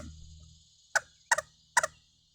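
Three quick raspy chattering bursts from a handheld MK Unique Designs squirrel call shaker, given a light shake, spaced unevenly after a short quiet lead-in, fairly close and crisp.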